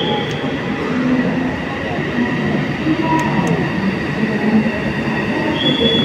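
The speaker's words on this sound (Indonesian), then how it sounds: "Terlihat kereta sudah mendekati area peron." A Whoosh high-speed train rolls into a station platform with a steady rumble, wheels squealing faintly and a high tone sustained, continuous and fairly loud as it nears.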